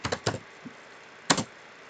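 A computer keyboard clicks sharply a few times in quick succession, then pauses before one last cluster of keystrokes, while a SQL query is typed for a database tutorial.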